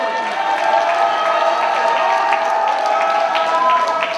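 A crowd at a cosplay contest applauds a contestant, with steady dense clapping and some cheering filling the whole stretch at an even, loud level.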